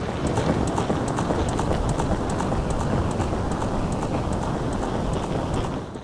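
Hooves clip-clop in a fast galloping rhythm as a horse runs in The Legend of Zelda: Ocarina of Time, steady and fairly loud throughout over a dense game soundscape.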